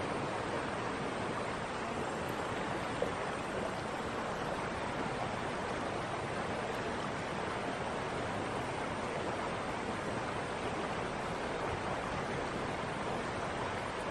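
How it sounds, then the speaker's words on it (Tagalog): A river swollen by rain rushes in a constant, dense hiss of flowing water, steady and fairly near with no pauses. "Umulan kasi kaya malakas yung agos ng tubig."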